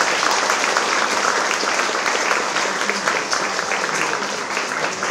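An audience at a children's competition awards ceremony claps in thanks for Bulgarian parents and teachers abroad, a sustained, full, fairly loud round of applause that stays even for the whole stretch.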